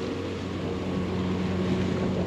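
A boat motors slowly along a Dutch canal near Weesp, its engine a low, steady drone with a faint hum and some wind noise, no voices.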